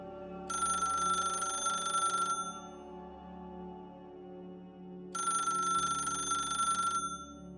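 A telephone bell rings in two long bursts separated by a pause of several seconds, loud and close.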